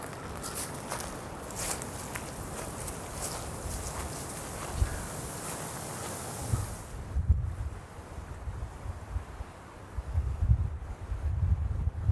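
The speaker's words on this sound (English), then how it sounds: "it's very windy" Steady wind rushes and buffets the microphone, with heavier low gusts thumping in now and then, no voices.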